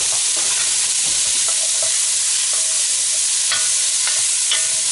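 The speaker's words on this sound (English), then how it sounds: "take a wooden spoon" Wooden spoon stirring carrots and celery in a pot over medium heat, a steady broadband sizzle with scattered soft scraping strokes and light knocks, close and continuous with no talk.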